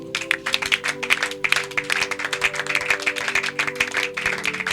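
A church congregation applauds in praise, a steady wash of many hands clapping under sustained organ-like musical tones, moderately loud and continuous.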